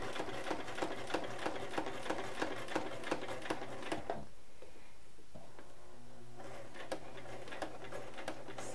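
A sewing machine, cranked by hand, stitches along the edge of a paper card holder with quick, regular ticking clicks. The stitching pauses briefly midway, then resumes close and steady.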